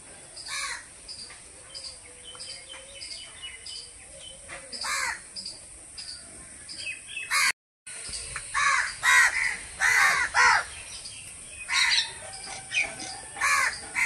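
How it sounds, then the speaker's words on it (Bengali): Crows cawing repeatedly around a house where they have come to feed, loud, close calls in irregular bursts over softer chirping, with a brief cut to silence midway. "দেখো কত পাখি চলে এসছে আমাদের বাড়ি খাওয়ার জন্য"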